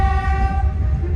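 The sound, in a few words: horn of the historic steam train, Train 1900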